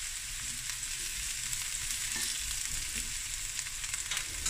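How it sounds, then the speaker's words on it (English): Steady crackling sizzle of mushrooms frying in oil, continuous and close, with occasional louder pops and no talking. "And while this is frying away"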